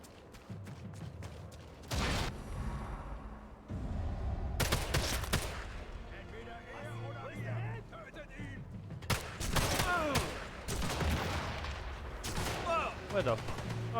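Gunfire in a video game: dense bursts of rapid shots and single cracks, some near and some farther off, with voices talking over the fire.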